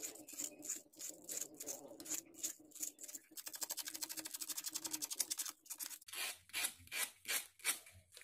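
A piece of metal is sanded before soldering, giving close, rhythmic rasping strokes that speed into a fast scrubbing run and then slow back into separate scrapes, with no talk.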